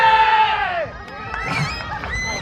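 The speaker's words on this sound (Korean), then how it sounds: "우리 부산대학교 남자 친구들이 응원의 함성 소리 한번 불러주시고" Crowd of male students at a K-pop dance contest cheering, a loud shout that swells then fades, followed by scattered yells and screams from the group.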